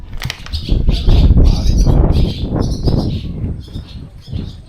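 Birds chirp outdoors at Old Fort Niagara, a cluster of high calls repeating over a steady loud rumble of wind or water in the open air.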